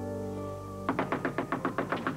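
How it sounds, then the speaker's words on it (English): Knocking on a hotel room door: a steady run of about ten sharp raps, evenly spaced and fairly close, following a sustained tonal background. "Tessie, answer the door."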